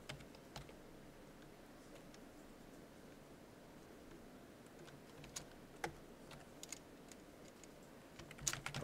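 Java code being typed on a computer keyboard during a programming class, heard as faint, sparse key clicks over steady room noise, with a louder cluster of keystrokes near the end.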